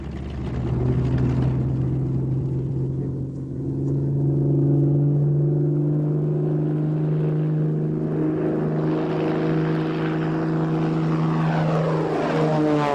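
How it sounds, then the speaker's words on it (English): Focke-Wulf Fw 190 fighter's piston engine droning as it taxis across Bremen airfield, a loud steady propeller rumble that rises in pitch toward the end. "the first 190, known as B-1, taxied down Bremen's airfield to put the new theories to the test"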